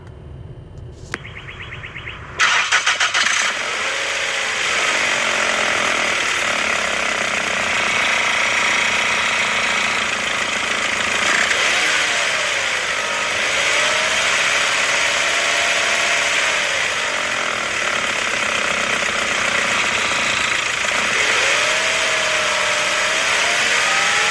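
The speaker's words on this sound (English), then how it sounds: "So it says that the engines are a little rough" A steady, rough mechanical car engine drone, the engine running rough, loud and continuous throughout, with a sudden start after a brief burst of noise at the beginning.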